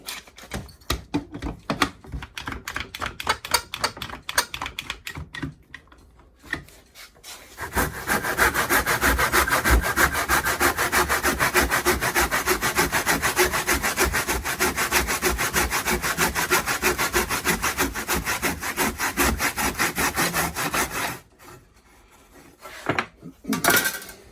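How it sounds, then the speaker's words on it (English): Handsaw cutting wooden cross pieces for a frame in a clamped miter box: rhythmic back-and-forth strokes, first light and sparse, then a long run of dense, louder rasping before it stops, close up with no talking. "now we need our cross pieces, and this is where the angle section of the miter box will come into play"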